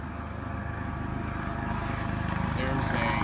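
A search and rescue helicopter over flooded southeast Texas streets during Hurricane Harvey, a loud, steady rotor drone with rhythmic chopping pulses that swells slightly, with a voice speaking over it.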